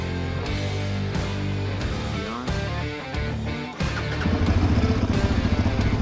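A Yamaha Raptor 700R ATV engine idles in neutral with a steady, close, throbbing putter. Near the end it picks up into a slightly rougher, faster rhythm.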